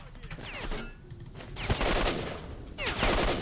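Gunfire in S.T.A.L.K.E.R.: Shadow of Chernobyl, a few sharp shots and short bursts against ambient game noise, moderately distant and fairly quiet, with some speech-like sound in the background.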